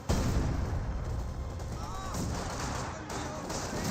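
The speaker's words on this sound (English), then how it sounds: "That is far too many mortars." Mortar fire in the Company of Heroes 2 battle game booms across a busy soundscape of continuous thuds and distant gunfire, rumbling along at moderate loudness.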